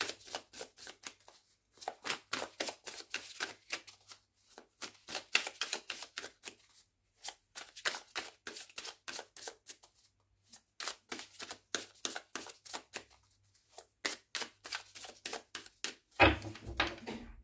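Stiff tarot cards are handled and shuffled close up in repeated bursts of quick riffling flicks and slaps, broken by brief pauses, with no talking.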